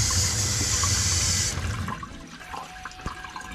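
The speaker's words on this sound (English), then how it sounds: "now we'll turn the water on and see how it does" Water runs from a newly replaced kitchen faucet in a Jayco Jay Flight 224 BH travel trailer, a loud steady rush at first that drops to a quieter trickle and spatter.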